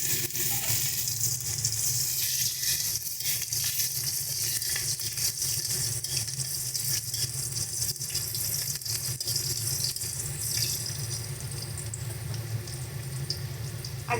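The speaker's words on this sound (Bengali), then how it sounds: "দেখো, তেলটা গরম হয়ে গেছে। এবার প্রথমে আমরা পেঁয়াজ ফোড়ন দিই।" Onions hitting hot oil in a pan for a potato and eggplant dried fish curry, a loud, dense, continuous sizzle and crackle close up throughout, with no speech.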